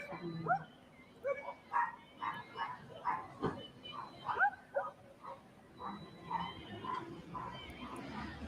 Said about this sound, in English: And all the dogs are barking, right?